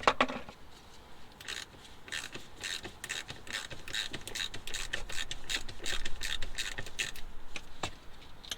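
A socket wrench ratchets repeatedly while a diesel fuel filter is being changed on an Audi A2 1.4 TDi, giving a steady run of close, crisp clicks with short pauses between strokes.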